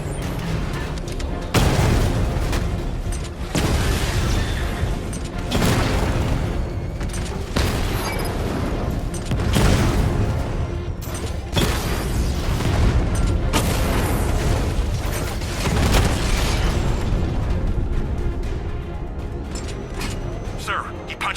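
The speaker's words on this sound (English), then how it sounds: "Your 60mm cannon will penetrate these heavily armored units, but it'll take a few direct hits to destroy them." Repeated heavy booming blasts from the Batmobile's 60mm cannon striking heavily armored tanks in Batman: Arkham Knight, loud and dense over a continuous rumbling game soundtrack, with bursts recurring every couple of seconds.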